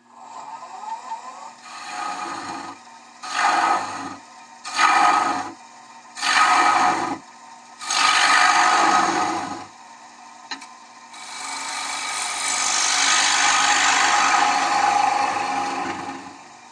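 Half-inch side ground gouge taking heavy cuts on a wood lathe while turning a bowl: several loud rasping, scraping bursts a few seconds each with short gaps, then a long steady roar of cutting, close and alone.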